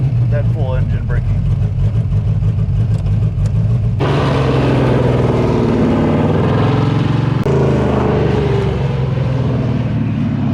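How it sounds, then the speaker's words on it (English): A car with a sequential shifter engine-brakes on the road, its loud mid-pitched engine droning and changing pitch at each abrupt downshift, heard from inside the car. "That's pretty nice, that full engine braking."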